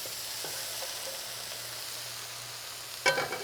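Chicken fried rice ingredients sizzle steadily in a hot pan, a quiet close hiss with a low hum beneath, and a sharp louder burst of sizzling near the end as more food hits the pan.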